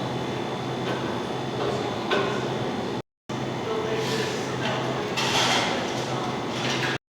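Interior ambience of a coffee shop: a steady murmur of indistinct voices and room noise, with occasional brief clatter and a door-like slide, continuous apart from a short gap of silence midway.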